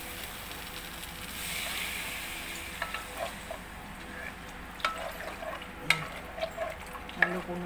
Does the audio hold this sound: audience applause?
no